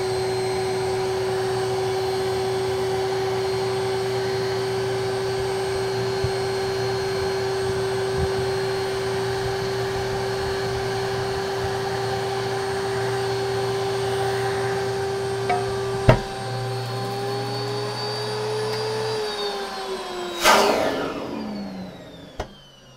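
Lindhaus HF6 vacuum cleaner running steadily to suck up dust, a loud close whine with a low hum, holding for about twenty seconds before winding down.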